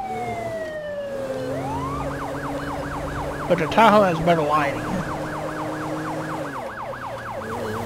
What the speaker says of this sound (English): We're still using the Federal Signal Delta siren.